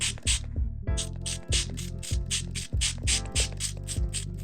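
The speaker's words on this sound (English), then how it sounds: "I'm gonna spray a couple of places and see" A hand spray bottle is pumped repeatedly onto a stained crochet heirloom, each trigger squeeze giving a short hissing spritz with a mechanical click, repeating in a steady rhythm about every half second, close up.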